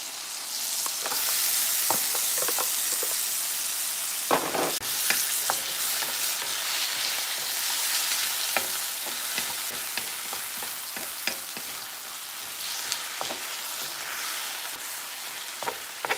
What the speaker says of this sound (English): And now I'm going to add my onion.